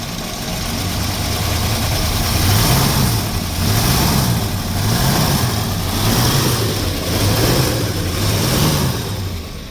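Warmed-up 1964 Dodge 318 poly V8 idling, a loud, close, continuous engine rumble with a slow rhythmic rise and fall in pitch, no voices.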